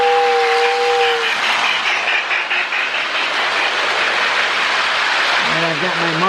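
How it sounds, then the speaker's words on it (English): A Lionel 8904 model steam locomotive with a Sound of Steam board gives a short, loud two-tone whistle blast, followed by continuous chuffing and rolling rail sounds; a few brief higher chirps come near the end. "We'll give it a little Marks whistle."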